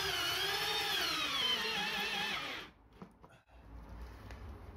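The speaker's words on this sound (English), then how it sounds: "Just drill that through the wood a bit first" A power drill bores through a wooden stud frame while a vocal booth is being built, whining steadily and loudly for over two seconds and then stopping abruptly, followed by a few faint knocks.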